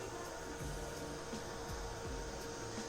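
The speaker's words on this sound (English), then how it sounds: "Quickly running your heat gun on this." A heat gun blows steadily over a decoupage napkin on a tray to dry it. Its airflow makes a continuous broadband whoosh with a low hum, and a few faint knocks sound underneath.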